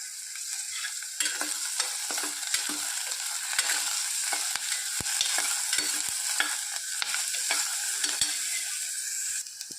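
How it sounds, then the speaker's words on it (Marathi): Onion, ginger and garlic sautéing in ghee inside a pressure cooker, a continuous close sizzle broken by frequent scraping stirs and clicks of the spoon against the metal. "आता मी त्यात कांदे, अद्रक आणि लसूण आपण सगळे एकत्र टाकूया आणि परतवून घेऊ"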